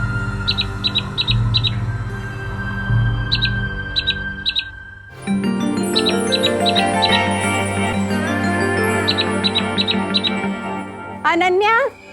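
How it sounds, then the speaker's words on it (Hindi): An exotic bird gives repeated bright squawks and chirps in short bursts over a dense music and effects bed, with a rising whistle-like call near the end. "ये तो कोई एग्जॉटिक सी बर्ड लग रही है मुझे"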